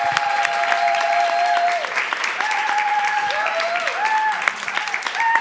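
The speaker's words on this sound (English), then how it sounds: "Please give her a round of applause." Audience applause at a climate crisis and feminist foreign policy panel event: sustained, loud clapping across the room, with raised voices and cheers mixed through it.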